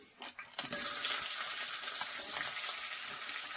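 Onion frying in a pan with black gram dal gives a loud, steady hiss of sizzling oil that bursts in after a few clattering stirs and stays close and continuous, with no talking.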